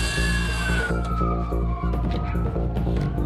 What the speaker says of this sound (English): The sirens, Daniel.